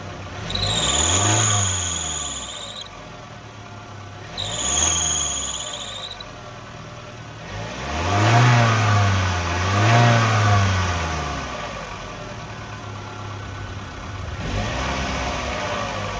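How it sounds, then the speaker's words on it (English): Running 2001-04 Kia Rio engine with a slipping belt, its loud squeal rising and falling in repeated sweeps over engine revving, close by and without speech. "Well, we got a belt squeal."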